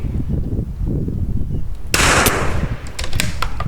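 Rifle shot at an outdoor target range using a Tikka rifle with Rim-X match ammunition: one sharp, loud crack near the middle, followed by a brief rolling echo over a steady background of wind noise.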